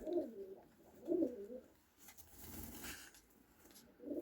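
Homing pigeon cooing softly nearby, low throaty coos coming in repeated phrases with faint background noise, no talking.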